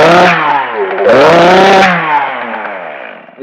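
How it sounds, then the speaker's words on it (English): A loud Echo chainsaw fires up close by, its engine buzzing and rising in pitch, dipping briefly, then surging again before winding down to a lower, rough idle. "When you first start one of these saws, an Echo especially, they start a little slow."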